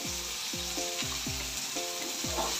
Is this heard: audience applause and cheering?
no